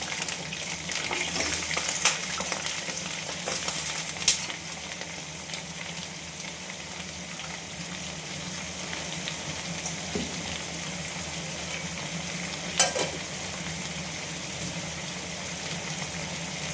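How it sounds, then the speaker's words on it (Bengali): Potato pieces frying in hot oil in a pan, a steady dense sizzle throughout with a few brief clinks and stirring sounds, close and fairly loud, with no talking. "তেলটা গরম হয়ে এসছে, আস্তে আস্তে এক এক করে আমি আলুগুলো ছেড়ে দিলাম।"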